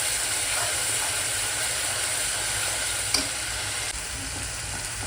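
Steady, dense sizzling of ground onion paste frying in hot oil, close and continuous, with a couple of faint clinks partway through and no talking.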